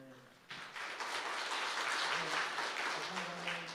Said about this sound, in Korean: 우리 장로님 박수 한 번 더 크게 해주시죠